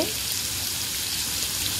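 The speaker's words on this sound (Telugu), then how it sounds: "దాంట్లోనే పసుపు, జీలకర్ర వేసి వేయిస్తున్నానండి" Ridge gourd and onion pieces fry in a pan with turmeric and cumin, giving a steady, close, bright sizzle that holds evenly throughout with no voices.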